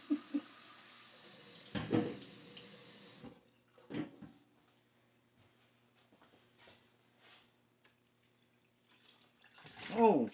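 Water runs from a kitchen tap into a sink while pickled eggs are being made, with intermittent splashing and clattering bursts, quieter gaps between them, and brief talk near the start.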